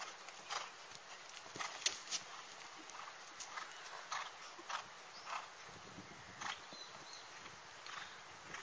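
Steady, even clip-clop of a five-year-old horse's hooves trotting on firm ground, a regular rhythm at moderate distance with no voices.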